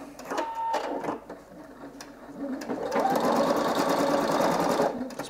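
A Singer EM9305 embroidery sewing machine starts up and stitches in gold thread, a whirring, buzzing motor with rapid needle clatter that builds and runs steadily after a brief start.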